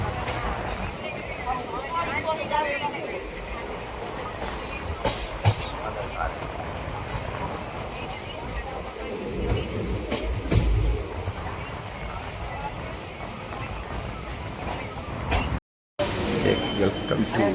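Train on the Pratap Nagar to Ekta Nagar line, a steady rumbling ride with clattering wheels throughout, loud and close, with voices talking over it.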